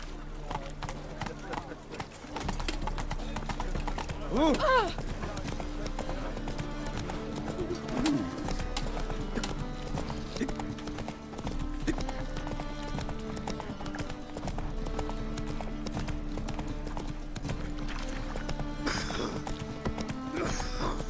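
Roach the horse trotting in The Witcher 3, hooves clip-clopping in a steady rhythm under game music and ambience, with voices speaking at times.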